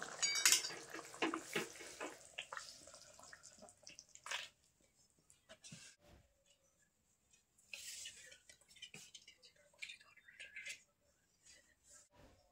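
Soybean kofta curry poured from a pan into a serving dish, with quiet intermittent scraping and clinking of metal against the dish and a soft wet slide of gravy, broken by short pauses.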